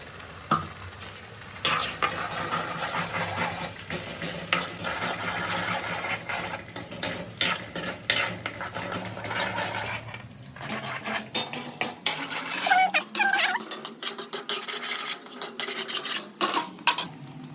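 Tomato paste poured into softened frying onions and stirred, with a loud, steady sizzle, repeated scraping and clinking of a spoon against the pan, and a wetter bubbling hiss as the paste cooks down.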